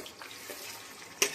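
Onions sizzle and fry in sesame oil in a kadai as a crab gravy is prepared, a steady soft crackle with a sharper stir or clink near the end.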